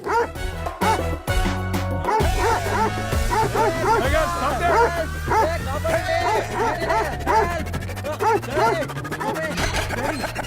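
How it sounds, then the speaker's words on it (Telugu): Dogs bark and yip in a film scene, with a steady rhythm of sharp bursts over a constant bed of crowd chatter and music, loud and close throughout. "లేదు డాడీ కుక్కలు వెంట పడుతున్నాయి"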